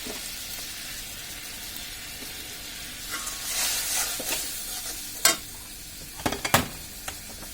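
Ground coriander, cumin, garam masala and ginger-garlic paste stirred into hot oil for a pangas fish curry, a soft steady sizzle under a few sharp scraping clatters of a spoon against the pan.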